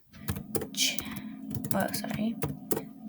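Typing on a computer keyboard, uneven bursts of close key clicks, with a voice faintly present around them.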